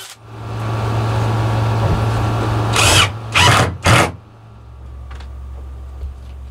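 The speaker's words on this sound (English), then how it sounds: "drill it in" A power drill whirs steadily at low speed, then gives three short, sharp high-revving bursts as screws are driven into a wardrobe, followed by quieter hum.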